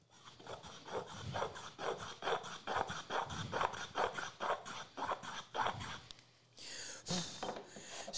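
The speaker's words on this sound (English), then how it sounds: "I'll just cut a little chamfer." A hand scraper cuts a small chamfer on a torrefied wood cup in a steady run of about a dozen short, rasping strokes, close and fairly quiet, followed by a brief different scraping noise near the end.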